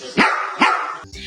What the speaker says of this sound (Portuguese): o nosso cachorrinho, ele faz o quê? Ele late.